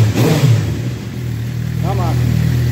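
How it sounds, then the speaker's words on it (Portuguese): A Suzuki 750 motorcycle fitted with a new FullPro exhaust runs close by, giving a brief rev and then settling into a steady, throaty engine drone while people talk over it. "Mais um escape aí, instalado na 750 Suzuki"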